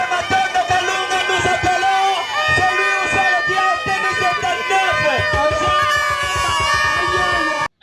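A large outdoor crowd at a political awards ceremony, loud and continuous, with dense overlapping voices, shouts and whoops over steady rhythmic drumming and music throughout.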